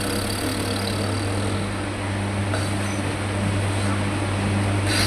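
A person makes a sustained lip trill imitating a motor engine as a vocal warm-up, a steady buzzing drone held close and loud for several seconds without pause.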